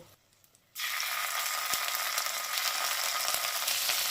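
Spices and ginger paste fry in a pan over a low flame for a Bengali mugeswari potol dish. After a brief quiet moment a steady, close sizzle begins suddenly and holds evenly to the end.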